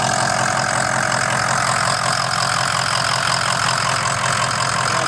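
A 2003 Ford Excursion with a stock 6.0 diesel V8 idles close by, a loud, steady clattering rumble with a rough knocking texture that holds unchanged throughout.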